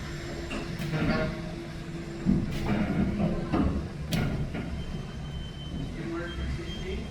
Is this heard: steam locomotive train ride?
yes